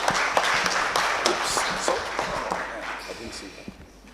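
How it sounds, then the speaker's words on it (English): A conference audience at a Nairobi health event claps for an arriving speaker, a dense patter of applause that thins and fades over a few seconds, with voices mixed in. "Give him a round of applause."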